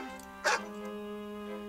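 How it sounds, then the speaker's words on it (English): A single short dog bark sounds once, moderately close, over a steady tonal background hum. "The dog woofs in Portuguese."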